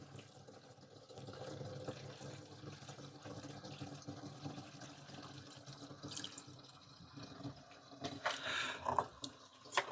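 Diesel fuel trickles and splashes from a container into a van heater's tank, a quiet, uneven liquid pour that swells louder toward the end.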